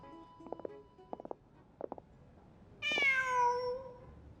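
A cat in the game Genshin Impact gives a clear, drawn-out meow that falls in pitch near the end, after a few soft, short chirping sounds over faint background ambience.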